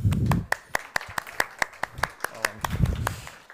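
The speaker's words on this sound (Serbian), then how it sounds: "Tako da vas pozivam da pozdravimo Milana aplauzom." An audience claps in welcome for a speaker at a conference talk. The claps are sharp, spaced and steady, with a voice speaking at the start and again near the end.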